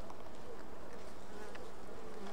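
Honey bees hum at an open hive during feeding, a steady, faint, continuous drone with a few individual bees buzzing closer past, with no talk.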